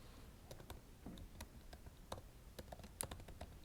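Fingers tapping out a search term on a computer keyboard, a quiet, irregular run of light key clicks close by, with no talking.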